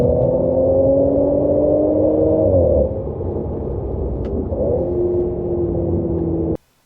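A supercharged V6 in an Audi S4 (B8) revs hard toward redline with a steady rising drone, drops briefly as a gear shifts, then pulls on loud and near before cutting off abruptly.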